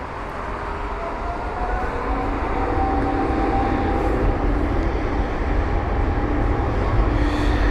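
A 23-year-old airliner at London Heathrow airport gives off a steady loud jet roar that builds slightly and holds, a broad continuous rumble.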